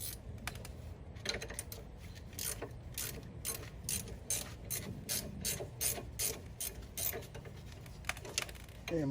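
A ratchet clicks rapidly and steadily as it breaks loose two 18 mm bolts at the back of a brake caliper on a Cadillac CTS. The quick, close pawl ticks repeat in an even rhythm throughout.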